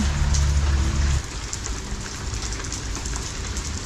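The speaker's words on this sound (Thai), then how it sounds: "ตอนนี้ก็คือฝนตกแหงทุกคน ฝนตกแหง" Heavy rain drums steadily on a vehicle during a road trip in northeastern Thailand, a dense continuous hiss with a low engine drone that fades after the first second.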